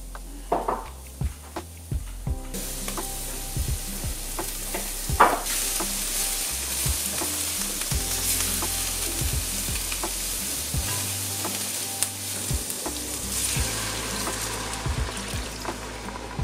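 Slovenian cevapčići sausages brown in a hot pan, a steady broadband sizzle running throughout with occasional scrapes and clinks of a utensil turning them, loud and close with no talk.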